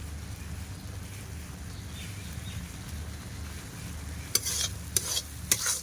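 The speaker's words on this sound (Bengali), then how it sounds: "দিয়ে এটাকে ভালো করে নাড়াচাড়া করবো।" Egg korma stirred in a pan with cashew, onion and chilli paste: a soft continuous sizzle and a low rumble, then three sharp scraping clacks of a spoon near the end, close by with no talking.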